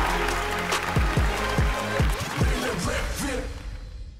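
Warm audience applause for a rapper on the Vietnamese TV rap show Rap Việt, loud crowd clapping mixed with booming pulses of music, fading away toward the end.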